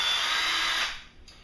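A power drill bores pilot holes into 1x6 wood boards, a high steady whine held close for about a second before winding down and stopping.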